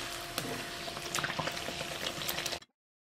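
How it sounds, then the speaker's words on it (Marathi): A puri deep-frying in hot oil, a bubbling, crackling sizzle with small pops that runs steadily, then cuts off abruptly into silence. "आता ही पुरी तेलात सोडून हिला ना पलटी करून घेऊ."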